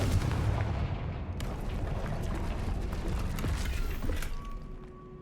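Confringo blasting spell in the game Hogwarts Legacy, a dense roaring burst of explosive rumble and crackling debris, loud and sustained before thinning out into a fading ring.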